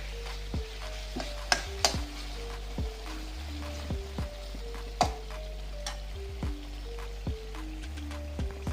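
Brinjal masala curry being stirred in a pan, with a constant low sizzle and regular ticking scrapes of a spoon against the pan.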